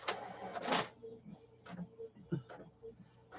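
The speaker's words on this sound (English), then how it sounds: "It's a printer copier." A printer copier runs with a loud mechanical whir at first, then settles into irregular clicks, ticks and short motor pulses, close by and without talk.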